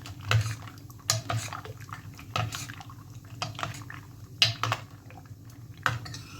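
A spoon stirs roasted makhana into raita in a bowl, giving scattered soft clinks and wet clatters at an uneven pace, close and fairly quiet over a low background hum.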